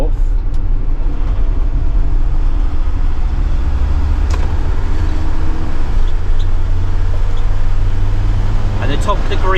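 Truck engine pulling hard in fourth gear with the accelerator floored, a loud, steady low drone that holds close and constant throughout.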